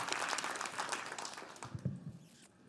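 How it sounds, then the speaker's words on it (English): A conference audience at a closing plenary session claps in a dense burst of applause that gradually fades out over a couple of seconds, ending in a few scattered claps. "All right, round of applause."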